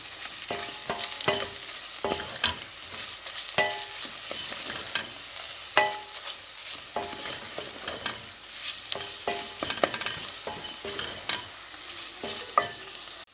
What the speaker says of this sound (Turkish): Birkaç dakika salçamı kavuruyorum.